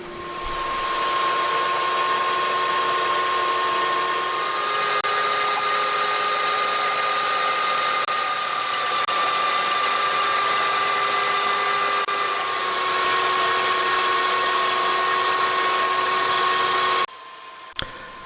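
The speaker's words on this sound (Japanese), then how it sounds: "一番太いところの 40mm が終わったので、次は 16mm まで削っていきます。" A metal lathe turns down a camshaft main shaft from 40 mm toward 16 mm for a homemade DOHC head, giving a steady whining hum with a faint tonal ring for about seventeen seconds before it stops abruptly.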